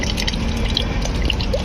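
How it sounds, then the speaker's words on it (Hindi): A coin-operated water dispenser at a market fills a container, giving a steady splashing, trickling pour with a few drips, fairly close and alone. "भर रहा है पानी, वो फिर निकलते हैं यहाँ से।"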